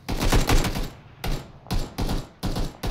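Rapid bursts of gunfire rattle in quick volleys, separated by brief gaps, loud and close like automatic weapons in a game.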